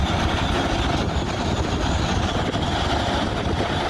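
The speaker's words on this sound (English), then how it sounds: "This thing is on the far side. Has a V16 Cummins engine in it." A quarry rock truck with a V16 Cummins engine runs on the far side of the site, a steady, dense, unbroken rumble and roar that holds at one level throughout.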